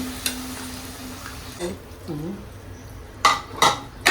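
Vegetables with dried fish, raw mango, potato and brinjal being stirred in a pan for a Konkan vangi sukat, with metal spatula scrapes and clanks against the pan over a faint sizzle.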